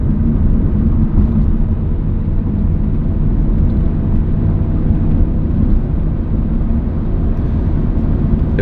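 Audi RS4 B7 with a swapped engine, heard from inside while driving on 98-octane fuel: a steady, loud, low engine drone and road rumble that continues without a break.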